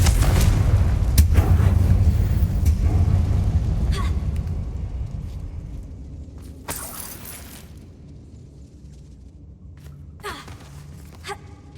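A Confringo spell explodes in Hogwarts Legacy inside an abandoned mine, a loud burst with shattering crackle that decays over several seconds, followed by scattered faint impacts and debris sounds.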